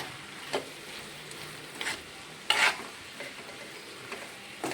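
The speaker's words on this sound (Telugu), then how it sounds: "సో ఉల్లిపాయలు బాగా మగ్గాక మనం వంకాయ ముక్కలు వేసేసుకోవాలి." Brinjal pieces and softened onions frying in a pan, a faint low sizzle broken by a few soft spatula scrapes and one sharper clatter.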